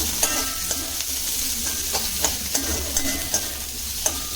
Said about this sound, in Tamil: இந்த வெங்காயம் வந்து நல்லா பொன்னிறமா வதக்கிக்கணும்.